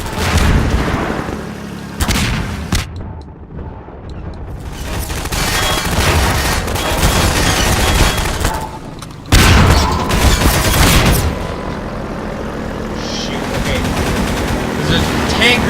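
Gunfire in the video game Half-Life 2, with loud bursts of rapid automatic shots and heavy booming blasts that come and go, and brief quieter gaps between them.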